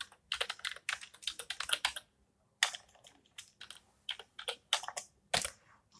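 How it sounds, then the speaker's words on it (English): Typing on an old computer keyboard: quick bursts of clattering keystrokes broken by short pauses, close and fairly quiet, with no talk. "my keyboard is not that good, so it's really difficult to write, and it is pretty old"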